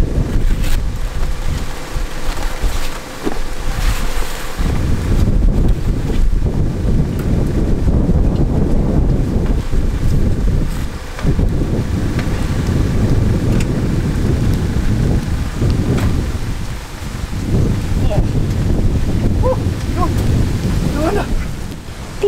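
Heavy January rain pours steadily at a campsite in Denmark, with strong wind buffeting the microphone in loud, continuous rumbling gusts throughout.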